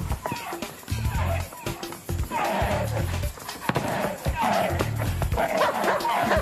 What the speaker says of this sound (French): Je comprends pas pourquoi il aboie